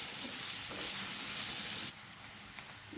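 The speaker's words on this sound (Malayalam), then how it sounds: "നന്നായിട്ടൊന്ന് വഴറ്റിയെടുക്കാം." Ingredients, apparently onions, sauté in a pan for an easy egg biryani, giving a steady loud sizzle and hiss that drops abruptly to a quieter fry partway through, with faint stirring scrapes and no talking.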